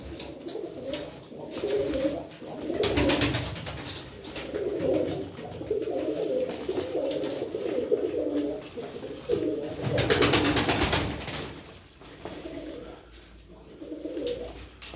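Tumbler pigeons coo repeatedly in soft, rolling bursts, fairly close, with intermittent rustling and wing-flutter noise around them.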